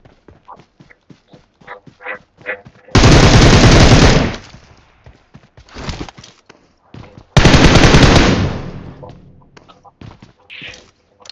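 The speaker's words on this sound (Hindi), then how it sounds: "इतने में चर्च की तरफ से फायर आया था" Two long, loud bursts of automatic gunfire rip through a firefight in the battle royale game BGMI, separated by quieter stretches of footsteps and small clicking movements.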